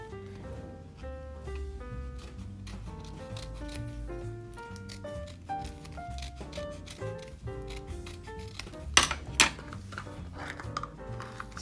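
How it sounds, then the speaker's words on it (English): Scissors trim material for a wall sticker, with a few crisp snips near the end over steady background music. "I have to trim it a little bit."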